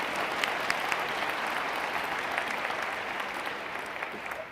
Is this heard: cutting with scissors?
no